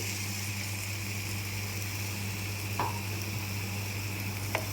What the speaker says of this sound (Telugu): మసాలాలో సిమ్లో పెట్టుకొని వేపుకోవాలి